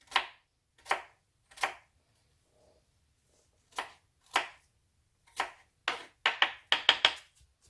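A kitchen knife chops an onion into chunks on a board: about a dozen crisp, separate strikes, spaced out at first and then coming quickly in a cluster near the end, close and clear with quiet in between.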